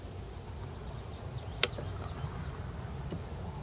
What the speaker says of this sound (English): that's actually a pretty nice box of bees right there